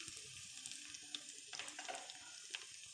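A couple of cloves of chopped garlic frying in ghee in a pan over a very low flame, a faint, steady sizzle with light crackles and stirring scrapes.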